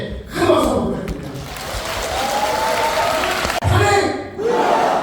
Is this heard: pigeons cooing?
no